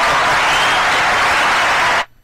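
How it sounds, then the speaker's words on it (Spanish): Applause rings out on a podcast set, a dense, steady wash of clapping that holds at full strength for about two seconds and then cuts off abruptly into near silence. "Tengo un aplauso por aquí, pastora."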